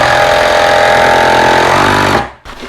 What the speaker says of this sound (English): Now I'm gonna just finish screwing this down.